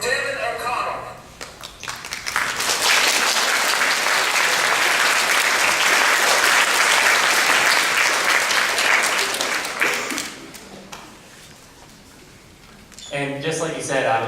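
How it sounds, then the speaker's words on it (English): Loud, sustained audience applause fills a school event honoring a semi-pro division winner, swelling for several seconds before fading, with talking at the start and end. "Big round of applause for Devin O'Connell."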